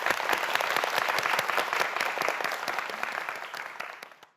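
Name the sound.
studio audience applause for quiz students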